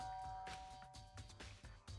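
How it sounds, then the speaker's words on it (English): A doorbell in the Danganronpa video game chimes over game music, its tones repeating several times through the short stretch at a moderate level. "I pressed the doorbell."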